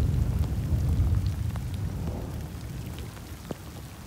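Steady rain pattering down outdoors, a soft continuous wash with occasional louder drops; no one speaks.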